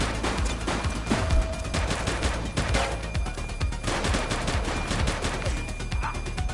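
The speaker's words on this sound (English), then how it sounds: "Shots fired!" Continuous video game firefight: rapid overlapping bursts of automatic weapons and single shots crack loudly and densely throughout, with no pause in the shooting.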